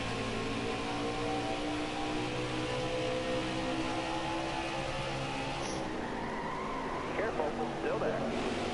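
Race car engine drone in the NASCAR Heat 5 video game, a steady loud roar held throughout with tyre and skid noise toward the end, with a voice talking over it.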